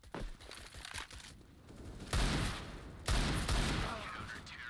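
Bursts of gunfire in a Rainbow Six Siege esports match, ESL Challenger Valencia 2022 qualifier, with two loud volleys of shots over a busy game mix and faint caster chatter.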